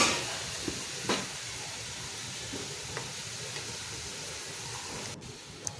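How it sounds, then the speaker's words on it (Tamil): Steady soft sizzle of shrimp eral thokku frying in a pan, faint and continuous, with a few light scrapes and taps of a spoon stirring. "நல்லா இதை வந்து ஒன்று சேர கிண்டி விட்டுக்கலாம்"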